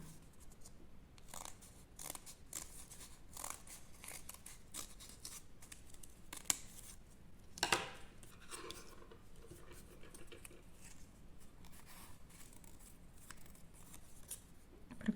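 Scissors cutting a leaf shape out of folded paper for a children's snowdrop appliqué craft, a close, quiet series of irregular crisp snips and paper rustles, with one louder crinkle partway through and no talking.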